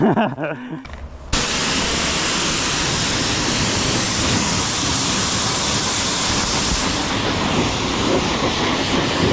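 A Rottor Bronx 300 motorcycle being washed with a water spray: after a brief quieter start, a loud, close, hissing jet of water runs continuously and evenly to the end.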